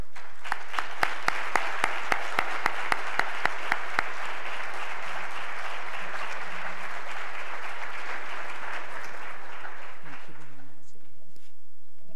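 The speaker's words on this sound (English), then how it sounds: "Please join me in giving a warm welcome round of applause to Miss Vanessa Siddle Walker." Audience applause welcoming a lecture speaker at a university general session, with sharp individual claps at first, then dense sustained clapping for about ten seconds before fading out.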